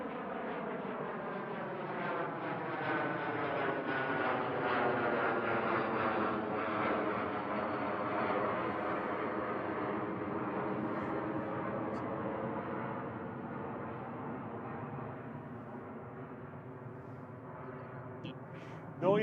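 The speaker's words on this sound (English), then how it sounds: "Noisy little Cessna Citation private jet taking somebody posh and rich somewhere." A Cessna Citation private jet flies at Manchester Airport, its engine roar filling the air for nearly twenty seconds as a loud, broad rumble that slowly shifts in pitch as it passes, with no talking.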